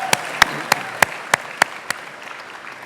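A few evenly spaced hand claps at a chamber of commerce annual dinner, sharp and fairly close, about eight in steady rhythm before fading into room murmur.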